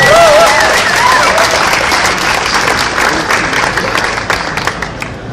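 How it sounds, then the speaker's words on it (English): Loud, sustained audience applause fills a convention hall after a Q&A panel at Armageddon 2013, with a few whoops early on and dense clapping that thins slightly toward the end. "Give him a big round of applause, Matt Melvin."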